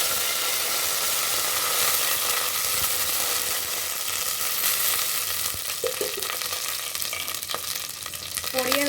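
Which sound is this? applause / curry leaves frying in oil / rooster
curry leaves frying in oil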